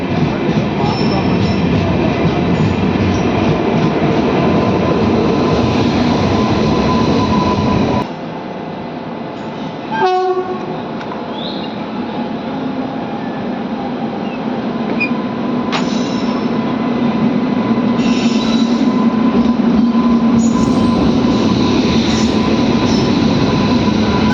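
The Cherlapalli–Thiruvananthapuram Amrit Bharat train rolls past a crossing at Ramannapet, a loud continuous rumble of wheels and carriages with squealing tones. It dips briefly, then carries on steady and close.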